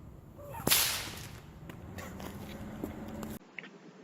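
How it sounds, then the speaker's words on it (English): One sharp whip crack near the start, loud and bright, making a small sonic boom, followed by a decaying tail and a few faint clicks and shuffles before the sound cuts off. "when that whip cracks, it's traveling faster than the speed of sound"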